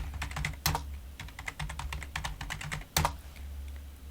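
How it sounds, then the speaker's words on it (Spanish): Quick, light keystrokes on a computer keyboard as a passwd command is entered during an Arch Linux install, an irregular close clicking run with two heavier key hits, no voices. "Entonces escribimos el comando passwd y la nueva contraseña."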